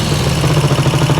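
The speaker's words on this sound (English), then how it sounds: "They've just got this bark on the exhaust note, which is really kind of prominent and majestic." A Vincent Rapide 1000 V-twin motorcycle runs close by, its exhaust giving a loud, steady, throbbing bark with a low pulsing rhythm.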